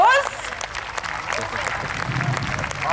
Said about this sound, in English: Give the young man a big round of applause.